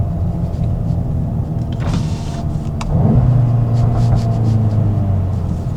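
A Volkswagen Golf GTI's four-cylinder exhaust rumbles with a low, steady note that rises in level partway through, with a few faint crackles on top, close and without talk.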